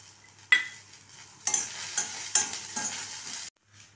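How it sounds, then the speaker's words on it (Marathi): Chili pieces and garlic roast in an iron kadhai, with soft sizzling broken by several sharp stirring scrapes and clinks of a spoon against the pan. The sound is close and fairly quiet, and it cuts out near the end. "आता मिरच्या भाजते वेळेसच त्याच्यामध्ये लसूण ॲड करायचं आहे"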